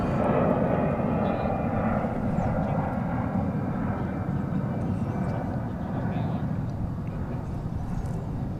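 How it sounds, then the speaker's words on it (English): An Air Canada cargo plane taxis at DFW Airport, giving a steady low engine rumble and whine that holds throughout at moderate distance. "Air Canada cargo flight taxiing over"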